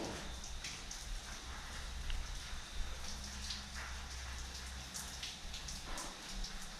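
Rain falls steadily outdoors at night, a soft, even patter and hiss with faint scattered drops, heard alone and fairly quiet.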